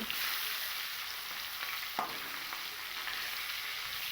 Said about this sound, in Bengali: আমি কড়ার চারিদিকে একটু ছড়িয়ে দিয়ে এর ভেতরে আমি লবণ হলুদ মাখিয়ে রাখা মাছগুলোকে দিয়ে দেব